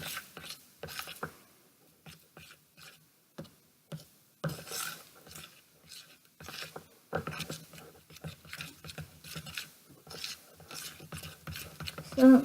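Homemade floam slime with sticky foam beads being stirred and mixed by hand, giving close, irregular squishing and crackling clicks in bursts, with no voices.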